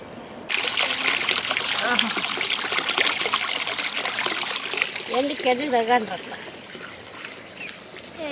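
Water runs steadily from a motor-fed pipe outdoors, a continuous close trickling and splashing stream that starts abruptly and carries on while people talk over it.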